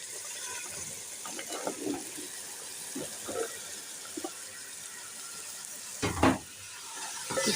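Minced meat and vegetables added to fried spice masala in a pan, sizzling steadily with bursts of scraping and stirring, one louder stir near the end, close by and without talk.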